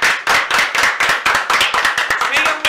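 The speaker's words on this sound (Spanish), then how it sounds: "Gracias. Un aplauso." A short burst of rhythmic clapping from a small studio audience on a Dominican radio show, close and loud, with uneven beats and no voices over it.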